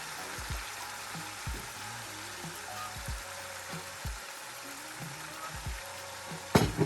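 Minced vegetables go into a hot pan for shrimp fried rice, a faint steady sizzle with occasional soft stirring knocks, ending in a louder clatter.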